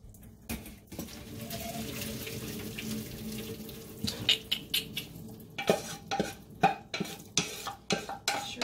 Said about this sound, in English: now I'm going to go ahead and dump my pasta, because it is done